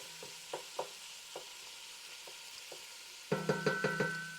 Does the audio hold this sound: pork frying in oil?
yes